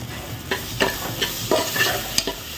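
Jackfruit seeds with tomato, Malvani masala, turmeric and garam masala sautéed in a pan, several distinct scraping stirs over a soft steady sizzle, close and alone with no talk.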